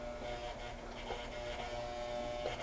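Sewing machine stitching canvas, a quiet steady mechanical whir with faint rhythmic ticking of the needle, running continuously and close by.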